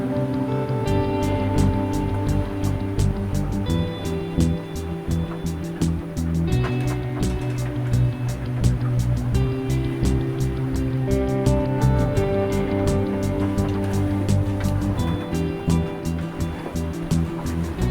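An RNLI lifeboat motors alongside a Contessa 32 sailing yacht at sea during the Azores and Back race, a steady droning engine hum with rushing water throughout and no break.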